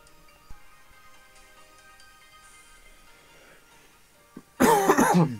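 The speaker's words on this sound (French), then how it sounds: "Alors désolé si je tousse un peu" A single burst of harsh coughing near the end, loud and close, after a stretch of quiet background hum.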